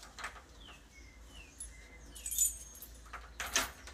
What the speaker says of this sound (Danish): Vi skal lige få den rigtige nøgle.